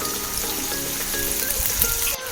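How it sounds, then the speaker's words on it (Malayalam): Chopped ginger, green chillies and curry leaves crackle and sizzle loudly in hot oil for a dates pickle, a close, continuous frying hiss with light stirring. "ഇഞ്ചി അരിഞ്ഞു വെച്ചത് കൊടുക്കാം ഇതിലേക്ക് പച്ചമുളക് രണ്ടെണ്ണം അരിഞ്ഞു വെച്ച് സമയത്ത് നമുക്ക് രണ്ട് തണ്ട് വേപ്പിലയും ഇട്ട്"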